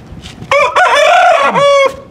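Backyard chickens and a rooster close by, with a loud crow rising and falling over about a second and a half, framed by short clucks before and after.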